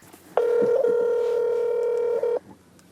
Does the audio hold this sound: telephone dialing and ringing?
yes